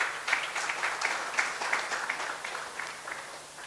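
Moderate applause from a gathering at the grand opening of the Oxford Hindu Mandir and Community Centre, scattered claps that fade slowly over a few seconds with no voices.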